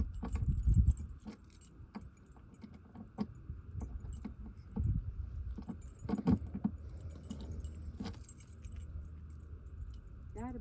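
Keys jangling and clinking in bursts while a lock is being changed, fairly faint and close, with intermittent rustling and low handling thumps between the metallic shakes.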